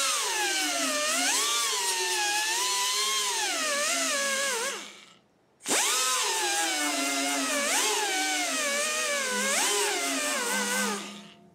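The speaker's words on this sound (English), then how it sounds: "So if I wanted to, I could just sand some of this." A yellow sanding disc on a power tool grinds across a rusted fender of a 1967–68 Mustang, a loud, continuous whine with shifting pitch that stops briefly midway and then resumes.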